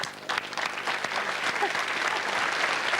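Studio audience at a Las Vegas chat show clapping, a dense sustained round of applause from a crowd, fairly close and steady for the whole stretch, with a voice briefly audible over it.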